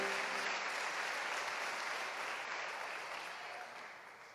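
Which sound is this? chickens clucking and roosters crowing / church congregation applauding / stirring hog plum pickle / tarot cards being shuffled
church congregation applauding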